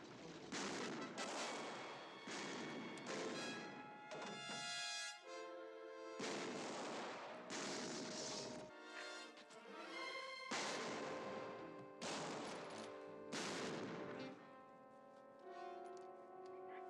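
Shotgun fire from a 1960s western film soundtrack: repeated loud blasts and reports mixed with dense orchestral music throughout.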